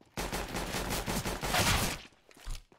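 Gunfire in Counter-Strike, a rapid automatic burst of close, loud shots lasting about two seconds, followed by a final lone shot after a brief pause.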